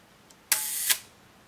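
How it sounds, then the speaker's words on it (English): A Moskva 4 folding film camera fires its shutter at half a second, giving a sharp mechanical click-open and a second click-close about half a second apart, close and clear in a quiet room. "let's listen the amazing sound of a shutter"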